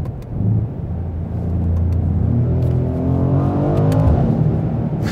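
A 2020 Mercedes-AMG GLC 63 S SUV's engine accelerates inside a tunnel, a loud, deep rumble rising steadily in pitch as it revs, with the enclosed space thickening the roar.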